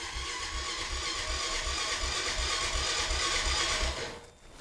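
A Honda Foreman ATV with the choke on cranks in sub-zero cold, the starter churning in a steady rhythmic whir for about four seconds without catching before it cuts off, close and loud with no talk.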